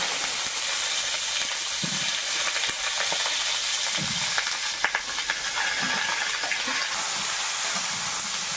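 Cauliflower frying in oil in a wok gives off a steady, close sizzle and hiss, with a few soft stirring bumps running under it throughout.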